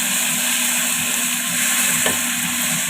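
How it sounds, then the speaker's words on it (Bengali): Tomato, pre-boiled with dal, drops into hot oil with asafoetida, giving a loud, steady sizzle and frying crackle that continues without pause, with a brief stir near the end. "আচ্ছা, এবার আমি টমেটোটা দিয়ে দিচ্ছি।"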